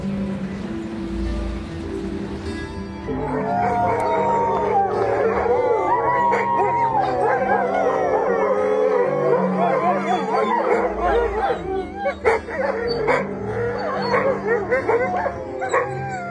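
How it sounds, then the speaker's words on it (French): Alaskan Malamute sled dogs on a sled-dog expedition howl together like wolves, a sustained chorus of overlapping wavering howls with some yips and whimpers, loud and close, continuing for most of the stretch. "le hurlement des malamutes, tels des loups, symbole de leur appartenance à la meute et de la cohésion du groupe"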